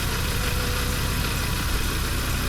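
An Audi RS3 8V engine idles steadily nearby, a constant low rumble with a faint mechanical whir and no other sounds.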